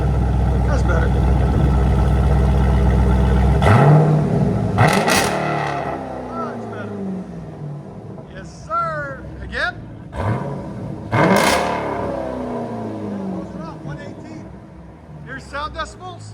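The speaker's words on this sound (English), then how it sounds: "So hit 118 right with the first rev." 2018 Dodge Durango 392 with a 6.4L HEMI V8, Corsa Extreme exhaust and rear muffler delete, idling loud and steady before sharp throttle blips that rise and fall away, separated by quieter gaps.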